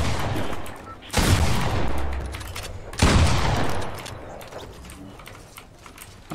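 Fortnite gunfire in a season 7 match: two loud, sharp shotgun-like blasts about two seconds apart, each followed by a decaying echo, over quieter background game sounds.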